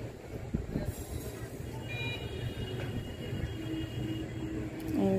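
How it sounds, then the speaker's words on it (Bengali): A train runs along the railway line beside a rooftop at night, a steady low rumble from a moderate distance with a faint murmur of voices in the background. "ট্রেনের শব্দ পাচ্ছ নিশ্চয়ই।"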